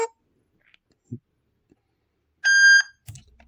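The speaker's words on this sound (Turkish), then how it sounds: "Bip sesini duyunca iğnemizi çıkartıyoruz." A Blic BLM 52 smart bulb camera beeps while being reset with a pin: after near silence and a few faint clicks, one clear, steady electronic beep sounds for under half a second.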